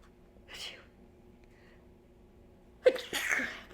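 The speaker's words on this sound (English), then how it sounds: "I got sneezing coming in." A single sneeze bursts out loud and close near the end, preceded by a soft sharp inhale and quiet room tone.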